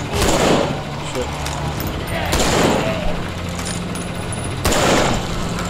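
Gunshots ring out in The Walking Dead: Survival Instinct, three loud, spaced bursts crack over a rough background while a voice talks.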